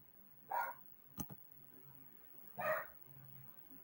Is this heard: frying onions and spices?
no